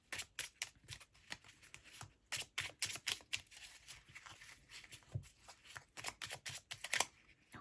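Small tarot cards are shuffled by hand in quick, irregular bursts of riffling, slapping and sliding, close and fairly quiet, with no talking.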